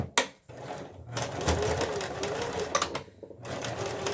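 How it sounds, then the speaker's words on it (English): A sewing machine stitches a piece of jute onto a scrap tassel, running in a steady close motor whir with brief pauses and restarts, with no talking. "Let me just quickly sew that on"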